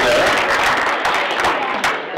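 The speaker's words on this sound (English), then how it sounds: "On the table networking, give yourself a round of applause." Breakfast audience at a West Los Angeles Chamber of Commerce event applauds, dense steady clapping from a room full of people, loud and close, tapering slightly near the end.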